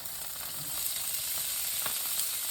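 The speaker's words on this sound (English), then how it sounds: "the pan is still screaming hot, so I'm going to add my corn. It's going to sizzle." Steady, bright sizzling of corn frying in a very hot pan with chili lime rub, a continuous crackling hiss that grows slightly louder after the first moment.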